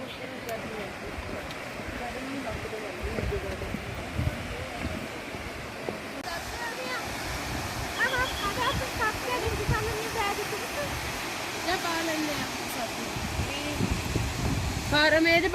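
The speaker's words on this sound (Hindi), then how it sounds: "एक झरना, उसको दिखाता हूँ मैं आपको" A mountain waterfall along the Baltal route of the Amarnath Yatra roars in a continuous rushing wash that grows slightly louder, with someone talking over it in rainy, cold conditions.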